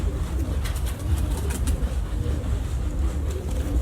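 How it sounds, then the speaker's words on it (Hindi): Breeder pigeons cooing softly at a loft, their low murmuring steady and continuous throughout, with faint background noise and no talking. "लेकिन अच्छे कबूतर।"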